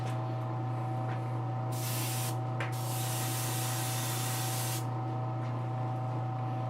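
Dull matte coat sprayed from a can or airbrush onto a painted custom statue: a loud, steady hiss lasting a few seconds with a short break, over a constant electrical hum, no voices.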